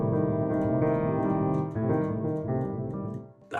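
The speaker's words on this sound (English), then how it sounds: "we're going to have this kind of ripple effect in the left-hand chords" Left-hand piano chords ripple quickly upward with the sustain pedal held, notes blurring into a ringing wash of harmonics, close and moderately loud, with no talking.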